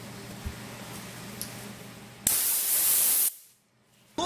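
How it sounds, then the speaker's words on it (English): Compressed air sprays in one loud, steady hissing blast lasting about a second onto a mildewed old book after sawdust cleaning, then cuts off abruptly, with a short burst starting again at the very end. "finish it with some compressed air"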